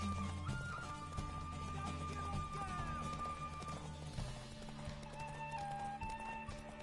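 Horse hooves clip-clop steadily in The Witcher 3, mixed with dense game ambience and layered tonal background sound, with faint voices present.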